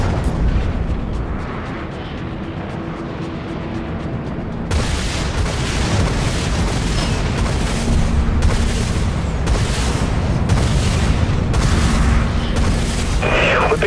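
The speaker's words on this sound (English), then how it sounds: "Launching Flechette Swarm" Flechette swarm missiles launching from a ship in the space combat game Dreadnought: a continuous roaring barrage of booms and rumbling blasts that intensifies partway through, with rapid repeated thumps layered over a dense, heavy background.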